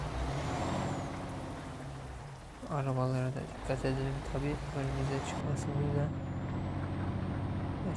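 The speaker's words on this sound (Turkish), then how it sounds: "şu an pati çekiyor araba bağırmasından anlayabilirsiniz" A MAN TGX truck in Euro Truck Simulator 2 strains up a ramp with spinning wheels, its engine droning and rising with harsh rhythmic pulses, while someone talks over it.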